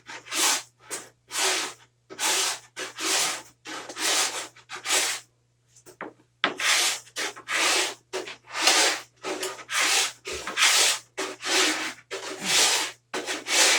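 Paint is stripped off a clamped wooden clapboard in close, rhythmic back-and-forth scraping strokes, about twenty in a row, with one short pause midway and a faint steady hum underneath and no talk.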